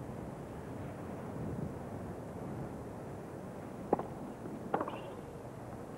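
Wind gusts across an outdoor tennis court at the Kooyong Classic exhibition, a steady broadband rumble buffeting the microphones throughout, with two brief sharp knocks near the end.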